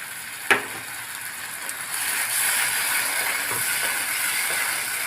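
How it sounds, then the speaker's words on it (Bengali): Spice masala for rui posto fish sizzles in hot oil with a steady frying hiss, a spoon scraping and clicking against the pan now and then, alone without talk. "যতক্ষণ না এটার মধ্যে দিয়ে তেল ছাড়ছে ততক্ষণ আমি কষিয়ে নেব।"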